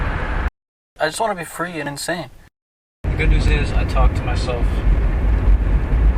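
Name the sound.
car engine noise while driving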